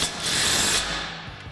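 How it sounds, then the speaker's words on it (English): An impact wrench with a 17mm socket hammers a sway bar end link nut tight on a Toyota Tacoma during a lift kit install, a loud rattling burst lasting under a second, then quiet clicks. "Now we'll use our 17mm socket on our impact to tighten this down."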